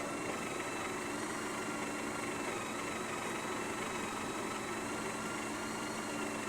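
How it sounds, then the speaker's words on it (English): A Breville Oracle Touch espresso machine hums steadily during a post-repair test, a constant broadband mechanical drone with no breaks or talking. "Today we're going to test this beautiful Breville Oracle Touch Espresso machine"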